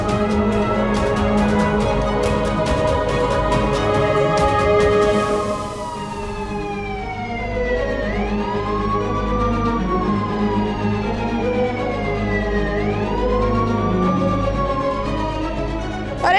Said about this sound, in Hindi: तुम ना एम्बुलेंस को कॉल करो